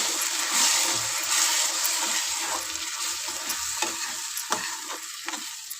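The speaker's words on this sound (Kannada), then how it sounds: "ಪೇಸ್ಟ್ ಹಾಕ್ಕೊಂಡು ಇದನ್ನು ಮಿಕ್ಸ್ ಮಾಡ್ಕೋಬೇಕು" Masala paste being stirred and fried in a pan for potato saagu filling, a steady close sizzle with scraping stir strokes and occasional sharp clicks of the spoon, no voices.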